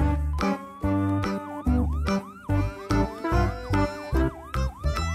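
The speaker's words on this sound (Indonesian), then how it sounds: "Wow, ada mobil ambulan." A wailing ambulance siren rises and falls repeatedly in quick, pulsing sweeps, loud and close, over a deep honking tone.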